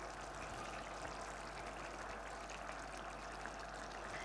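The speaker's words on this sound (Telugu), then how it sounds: "కొంచెం హాట్ వాటర్ యాడ్ చేస్తున్నాం" Hot water is poured into a palak paneer curry as a faint, steady stream that runs evenly throughout, soft and continuous with no talking over it.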